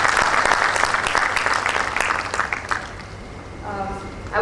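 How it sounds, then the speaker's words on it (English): A crowd applauding steadily at a book release event, dense clapping that fades toward the end as a voice begins speaking. "Can we have a little clap for the people who are"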